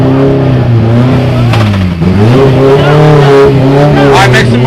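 A built race car with a side exhaust revs hard close by, its loud, rising and falling engine note sweeping up and down through several throttle blips.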